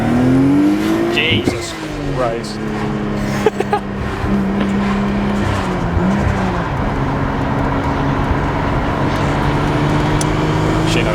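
Nissan Stagea wagon engine revving hard and accelerating, loud rising and falling engine tones with a sharp burst of throttle, while a voice exclaims over it and people talk nearby.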